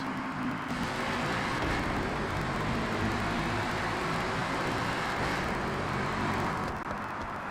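Steady, loud roar of a car driving through a tunnel in the video game Forza Horizon 6, with a broad rushing noise that swells and echoes throughout, no voices.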